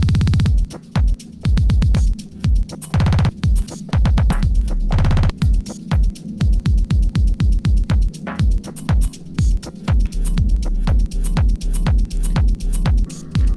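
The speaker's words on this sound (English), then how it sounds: "We've got a couple of stutter edits here." Looped dance music on a Pioneer DDJ-1000 DJ controller is chopped by a stutter edit pad effect, with rapid repeated fragments and abrupt cuts creating a choppy, rhythmic pattern throughout.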